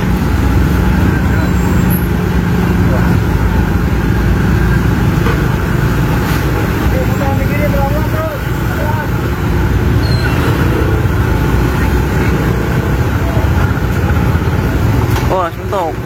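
Dense roadway traffic crawling in a jam in Bekasi, a steady loud rumble of cars, buses and trucks idling and creeping along with a constant engine drone, while people talk over it throughout.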